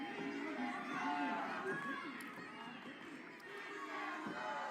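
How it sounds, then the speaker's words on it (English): Wrestling crowd chanting in unison at a live show, a rhythmic swell of many voices at a distance, somewhat faint, with a murmur of chatter underneath. "the crowd starts chanting, CJ sucks"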